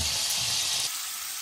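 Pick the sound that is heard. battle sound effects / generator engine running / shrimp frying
shrimp frying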